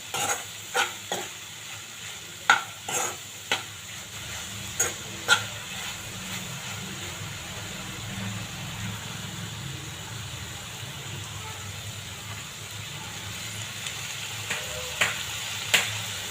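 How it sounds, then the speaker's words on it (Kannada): Okra stir-fried with garam masala in a pan for a ladies finger palya, a soft steady sizzle with sharp spatula scrapes clustered early and again near the end, close-up and without voices. "ಮಸಾಲೆ ಹಾಕಿ ಒಂದು 2 ನಿಮಿಷ ಫ್ರೈ ಮಾಡ್ಕೊಂಡು ತೆಗೆದುಬಿಟ್ರೆ ಮುಗಿತ್ರಿ"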